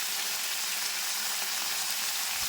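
Mixed vegetables, pumpkin among them, frying in a pan give off a steady, even sizzle, a continuous hiss that holds without a break and is heard alone.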